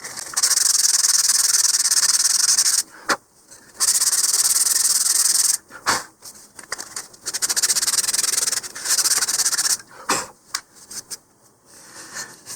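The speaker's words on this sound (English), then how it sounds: "we'll give it a little more sanding" Close, hissing sanding strokes of an emery board on model rocket parts rub steadily for a few seconds at a time, then break into shorter, choppier scrubs with pauses between.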